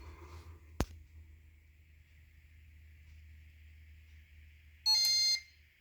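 Fire alarm system being tested, with a sharp click early on, then a brief electronic beep burst near the end over a low, steady background hum.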